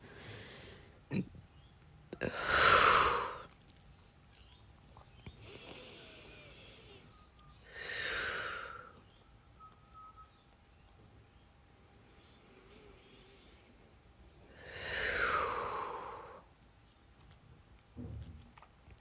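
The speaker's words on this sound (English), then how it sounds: "take 5 more big breaths in your rebound" Slow, deep breaths taken while resting in a yin yoga pose, three long airy exhales spaced several seconds apart, close and soft against a quiet room.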